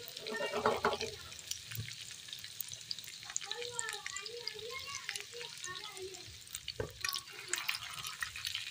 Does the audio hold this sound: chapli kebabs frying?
yes